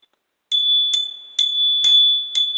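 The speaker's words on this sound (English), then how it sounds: "Let me hit the bell." A small bell is struck five times in a steady, unhurried rhythm, each strike a bright, clear ring that sustains until the next; close and loud, with no talking.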